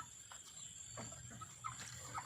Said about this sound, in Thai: ให้น้องไก่นะคะ